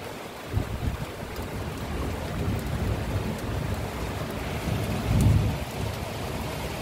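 Steady heavy rain pours throughout a thunderstorm, with low rumbles of thunder rolling in the background and a louder thunder swell near the end.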